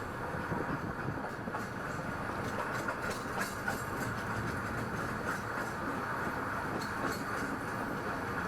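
A heritage railway train on the Welsh Highland Heritage Railway rumbles steadily along the track with a continuous rolling roar and faint rhythmic clatter of wheels over rail joints.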